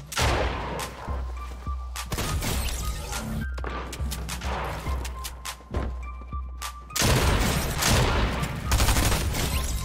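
Heavy shotgun blasts in a video game arena, a rapid series of sharp, loud booms and crashes spaced irregularly over a low hum, with barely any voice.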